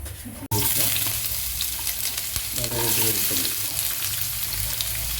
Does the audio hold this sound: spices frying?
yes